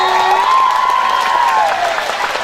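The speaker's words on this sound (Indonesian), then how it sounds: "tepuk tangan untuk kita semua." Students in a school classroom applauding together, a short burst of clapping and cheering with a high sustained tone running over it.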